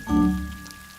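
Steady rain falls in a Ben and Holly animated cartoon, a soft, even patter with a brief low tonal hum at the start that fades as the rain carries on alone.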